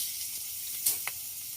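Onions and green chilies hit hot oil with a steady, close sizzling hiss, marked by a couple of brief, sharper crackling spurts.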